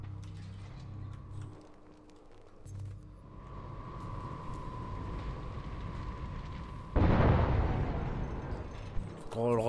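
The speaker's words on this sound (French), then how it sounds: "c'est pas une petite explosion tout ça" Deep rumbling blasts and crackling debris roll on continuously, with a sudden louder burst near the end; video game explosions in Hitman: Absolution under mechanical clatter and brief talk.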